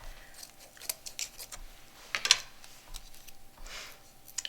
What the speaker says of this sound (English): maybe use your scissors to cut the tape off.